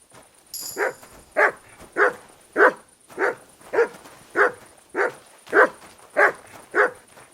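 Dog in Kingdom Come: Deliverance II gives about ten evenly spaced barks mixed with whimpering yips, close and clear, with a brief high electronic tone near the start.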